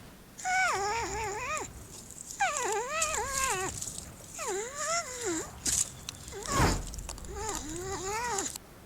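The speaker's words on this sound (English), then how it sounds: "So now we know what a porcupine sounds like." A porcupine vocalizes in close, clear bursts of high, wavering whines and squeals, arriving in about five separate groups with short pauses between them and no talking.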